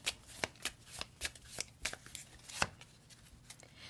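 Tarot cards being shuffled and drawn from the deck, a run of crisp riffling snaps and flicks in an uneven rhythm, close and fairly quiet with no talking.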